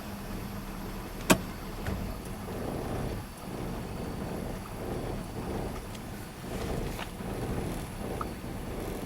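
A 1976 Ford Ranchero V8 idles steadily with its new carburetor, a continuous low rumble with slight fluctuations and a single sharp click near the start, with no talking.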